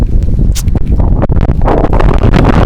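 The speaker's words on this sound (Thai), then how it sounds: "พายุอีกลมอีก" Loud storm wind roars and buffets continuously at close range, gusting unevenly throughout with a rough, rumbling rush.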